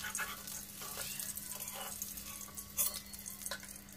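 Pabda fish frying in oil gives a soft, fairly faint sizzle with intermittent hissy bursts and light clatter nearby.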